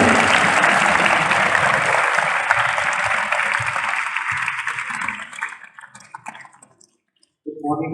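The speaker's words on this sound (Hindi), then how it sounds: "ताली बजाइए" Loud applause rises from a school audience at an event in Ambala Cantt, dense clapping that holds for several seconds, then thins to scattered claps and fades out before a voice begins.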